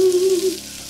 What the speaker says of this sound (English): All right, so we hear that sizzle.